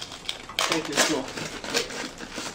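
A plastic wrapper crinkles close by as it is pulled off a part of a Dirty Hand Tools 22-ton log splitter, giving a couple of seconds of brittle, scattered rustling bursts.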